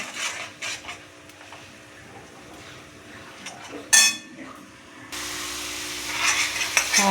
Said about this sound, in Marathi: हे वाटण आपण छान परतून घ्यायचे